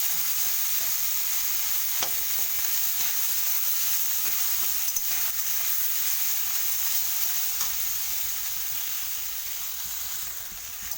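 Fish scales fry crisp in hot oil in a pan, a steady close hiss and sizzle running unbroken throughout, with a few faint stirring knocks and no voices.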